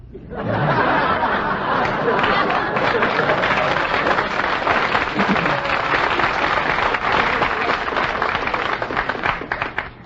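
Marines seated in the third row of a quiz-show studio audience applaud, joined by the wider crowd in a dense, steady burst of clapping with scattered laughter and chatter, lasting throughout and ending abruptly.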